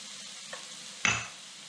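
Spices hitting a hot pan during a chicken cooking demo in Uganda: a faint clink, then a sudden sharp sizzle that bursts loud and fades quickly over a quiet background.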